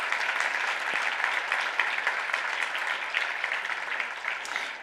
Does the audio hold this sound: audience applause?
yes